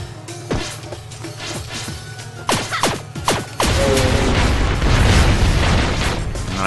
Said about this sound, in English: All right, he's exploding.